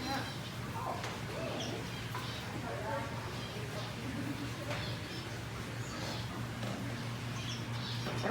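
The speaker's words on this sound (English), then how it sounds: "I didn't realize there were so many zebra finches here." Small zebra finches chirp in an aviary at Bird Kingdom, giving faint, scattered high tweets over a steady hum while people talk nearby.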